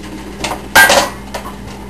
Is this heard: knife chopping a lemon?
yes